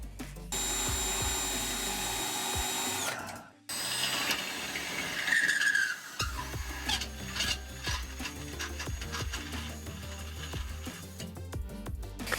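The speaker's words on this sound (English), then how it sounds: "I need to drill a hole on the passenger side." A power drill whirs against the metal frame of a 2012 Smart ForTwo car, stopping briefly before grinding on again with rough, uneven mechanical noise.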